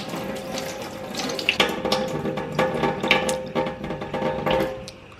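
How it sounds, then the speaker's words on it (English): Tap water runs steadily into a sink while a makeup brush is rinsed under it, a continuous splashing with small bursts as the bristles are pressed and squeezed. "The water that's running is clear."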